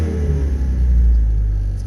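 An old French car's engine runs steadily on bad gas without the choke, a loud, close, low rumbling idle with uneven throb and a faint whine above.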